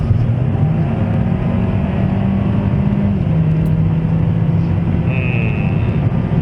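A Hyundai Sonata midsize sedan with a 1.6-litre gasoline turbo engine drives along, giving a loud, steady engine drone and road rumble heard from inside the car, with no talking.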